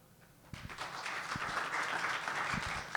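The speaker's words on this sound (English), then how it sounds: "Round of applause for Kathleen." Applause for a speaker at the end of a conference session, a moderate round of clapping from an audience that starts after a half-second pause and runs steadily to the end.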